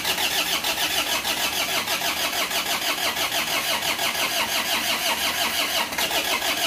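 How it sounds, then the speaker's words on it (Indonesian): An Isuzu Panther diesel engine, freshly rebuilt with new cast cylinder liners, cranks on its starter in a fast, even, rhythmic churning that runs loud and close for nearly seven seconds without firing fully, with a brief hitch near the end. "kita starter untuk yang pertama kali"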